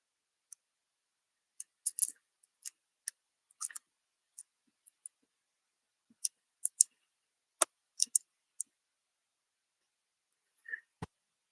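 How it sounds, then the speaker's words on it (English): Light, sparse clicks of typing on a computer keyboard, irregular single taps and short clusters, fairly faint in a quiet room. "let me type that in"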